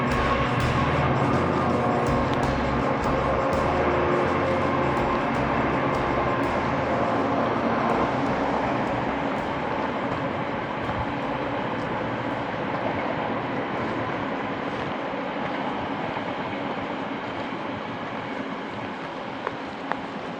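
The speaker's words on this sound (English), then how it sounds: "the diesel engines going back." Diesel trains rumble steadily along a railway line beside a canal at Hatton Locks on the Grand Union Canal, a continuous loud roar that slowly fades over about twenty seconds with no talk.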